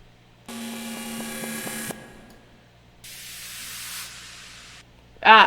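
A synthetic uplifter riser rises with tonal pulses and cuts off, then a reverb-made hissing noise wash follows and fades, ending in a brief bright burst.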